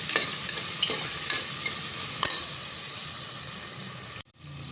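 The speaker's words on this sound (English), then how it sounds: "So into the frying onions" Onions fry in a pan for a chana and vegetable korma, giving a steady close sizzle with a few scraping stirs and a sudden clatter near the end, with no voices.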